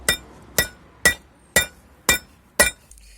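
A hammer drives a bearing ring into the rear hub of a Golf 3 TDI with six sharp, ringing metallic blows, evenly spaced about half a second apart, close and loud in an otherwise quiet space.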